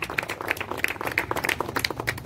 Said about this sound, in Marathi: खरोखरच दादांसाठी टाळ्या वाजवा.